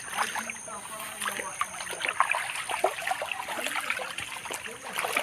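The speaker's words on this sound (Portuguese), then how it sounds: "Água corrente aqui, ó." A small natural stream of running water trickles and burbles continuously outdoors at moderate volume, with light splashy detail and a voice faintly present in the background.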